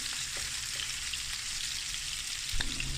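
Shrimp for Cameroonian ndolé frying in a pan, giving a continuous bright sizzle with crackling, plus a brief stir or clatter near the end, close and steady with no talking.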